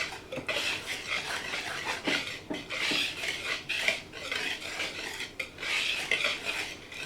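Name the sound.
stirring food in a pot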